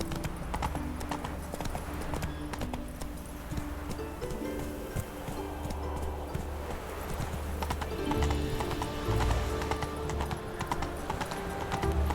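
Horse hooves clip-clop at a gallop in The Witcher 3, a steady drumming gait alongside occasional whinnies, with game music and ambience underneath.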